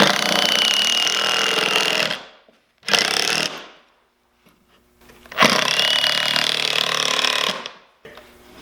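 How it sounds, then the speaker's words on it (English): A power drill drives screws through plywood pieces into a board, three loud whirring bursts of a couple of seconds each, separated by short silent pauses. "I've got these pieces of plywood here, and I'm going to screw them in to this board to help secure it"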